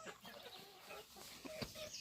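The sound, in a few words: chickens clucking in coop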